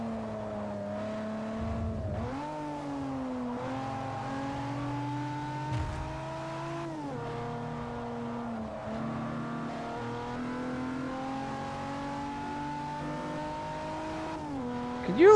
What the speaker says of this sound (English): I downshifted just to get the car to change its course or trajectory.